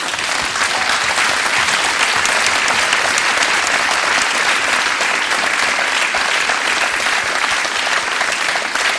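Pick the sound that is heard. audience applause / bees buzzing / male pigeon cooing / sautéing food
audience applause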